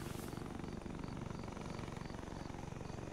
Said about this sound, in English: That chopper with rockets is pretty close somewhere.